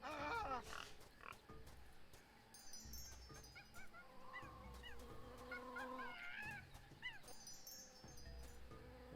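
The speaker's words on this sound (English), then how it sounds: "That jungle sure is noisy. Monkey, boar, bee." Jungle animals in the adventure game Tales of Monkey Island, with boar and bees among them: honking, squealing calls and chirps come in scattered bursts over a faint buzzing background, fairly quiet throughout.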